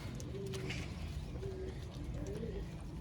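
Low, soft coos from a pigeon with young repeat a few times over a steady background hum, calm and fairly close, with no talking.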